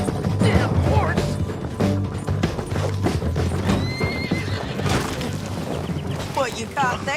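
A horse in Red Dead Redemption 2 whinnies and neighs with rising, wavering calls over steady clip-clopping hooves and loud game action, close and prominent throughout.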